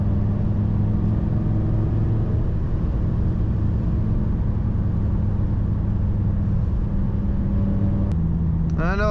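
A Gen V Dodge Viper cruises along forest backroads with a loud, steady low engine drone that changes pitch slightly now and then, with a short rising rev near the end.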